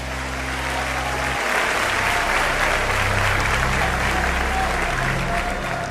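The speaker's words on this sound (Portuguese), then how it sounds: "aplaudindo a Jesus porque Ele é bom" A church congregation applauding during worship, a loud, continuous roar of many hands clapping over a low sustained organ or keyboard tone.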